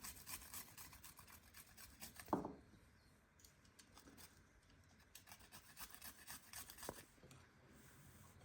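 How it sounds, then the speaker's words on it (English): Garlic being grated on a hand grater in a farm kitchen, a rasping scrape of quick rubbing strokes heard close up, with a few louder knocks and no talk. "we're using a grater instead of a garlic press"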